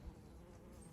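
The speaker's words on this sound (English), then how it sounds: "I heard the bees" Steady insect buzzing, like bees, a low continuous drone heard close by outdoors with no talking.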